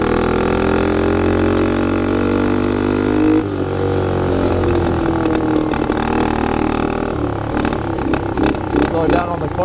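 Dirt bike engine riding through snow, a steady buzzing drone that dips and shifts in pitch midway, then turns rougher and choppier as the throttle changes.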